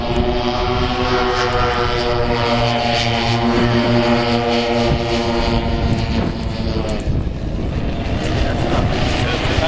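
A radio-controlled B-29 scale model plane powered by four 100cc motors drones steadily overhead at an air show, a loud sustained multi-engine hum whose pitch shifts as it passes, with no break.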